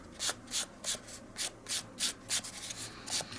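Sandpaper of 400 grit scuffs painted metal in about ten quick, evenly spaced rubbing passes, each a short hissy swish close to the listener, with no voices.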